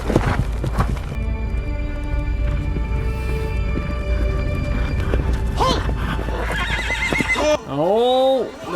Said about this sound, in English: Oh, the poor horse.